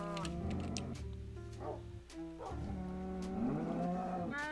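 Several Minecraft cows moo in overlapping low, drawn-out calls, close and fairly loud, with no talking.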